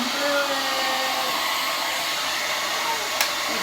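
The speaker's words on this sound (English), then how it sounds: "Make sure not to touch the dryer to the actual thing, but you can get it pretty close." Hand-held blow dryer running steadily close by while drying hair at home, a loud, even whoosh that holds for the whole stretch with no talk.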